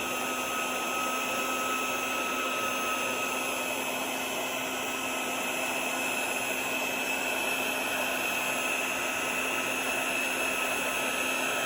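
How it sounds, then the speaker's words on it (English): A hot heat gun blows steadily on silver embossing powder to melt it, a constant airy whoosh with a faint motor whine running unbroken from start to finish. "This heat gun is now hot from last time, so it won't take long to start to melt."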